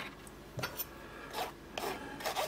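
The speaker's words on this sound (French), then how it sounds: "c'est au tour de l'amidon que je tamise aussi et que je vais mélanger à la farine" Potato starch being sifted through a sieve for sponge-finger biscuit batter, heard as soft rasping, rubbing bursts in short intermittent strokes, close and fairly quiet with no talking.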